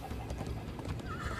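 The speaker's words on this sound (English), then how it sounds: "First time on a horse here." Horse hooves clip-clop at a steady trot in the Minecraft Story Mode video game, a quick rhythm of soft thuds laid over busy background game sound.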